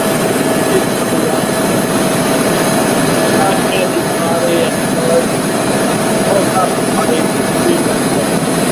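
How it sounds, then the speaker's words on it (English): A helicopter flies in over an avalanche site, its engine and rotor making a loud, steady drone that holds the same level throughout. "A shot from the heli as they come in the next morning"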